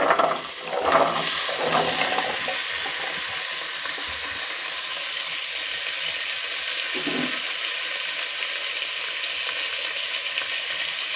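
Vegetables drop into hot oil with peas in a pan for bisi bele bath, giving an immediate loud sizzle that settles into a steady frying hiss with a few stirring scrapes.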